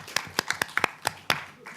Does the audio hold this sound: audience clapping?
yes